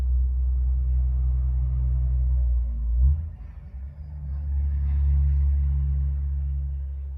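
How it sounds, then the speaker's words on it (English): A truck passes close by outside with a deep, heavy rumble that swells, dips briefly in the middle, then builds again before slowly fading. "Let this truck go by."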